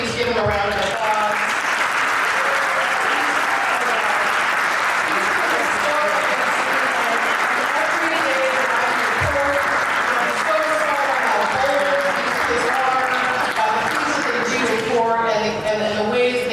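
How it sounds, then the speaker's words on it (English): A gala banquet audience gives a long round of applause for career counselors, thick continuous clapping with scattered voices and cheers underneath, then it ends abruptly and talking resumes. "please give them a round of applause"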